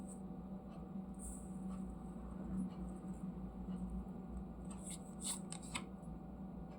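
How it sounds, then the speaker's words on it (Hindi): Tarot cards slide and shuffle softly across a table as they are pushed aside, quiet papery rustling with a few brief scrapes and taps near the end. "मैं थोड़ा साइड कर लेती हूँ कार्ड्स को।"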